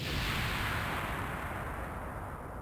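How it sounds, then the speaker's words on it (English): A loud, close video game explosion in The Space Adventure Cobra that starts with a sharp burst and fades into a long, roaring rumble of debris and noise. "The dripping was clearly an explosion the whole time."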